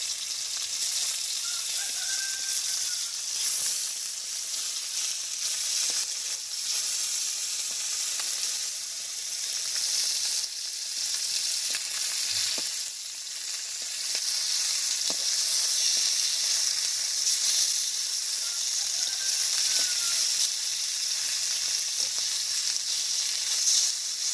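A fish fries in a pan in a village kitchen with a loud, steady sizzle and hiss that carries on throughout, broken by a few faint clinks of stirring or turning.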